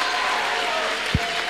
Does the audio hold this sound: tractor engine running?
no